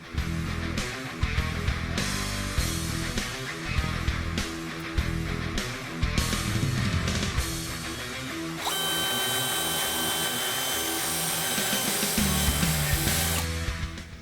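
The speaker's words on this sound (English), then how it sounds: "bend this tab flat and then drill this hole out to 3/8 of an inch" A power drill grinds steadily into a metal tab, boring a 3/8-inch hole on a 2016-2018 Ford Focus RS during a cold air intake install, a continuous harsh whir that shifts to a higher, brighter whine partway through, with no voices.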